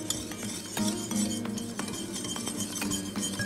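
A metal whisk clinks and rattles against glass and utensils as it is picked up in a home kitchen. The short, bright taps sound near and fairly quiet.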